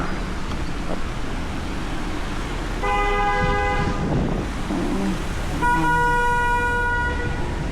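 Car horns honk in slow traffic: two separate bursts of bright, sustained tooting, a few seconds apart, over a constant roadway rumble, with no voices.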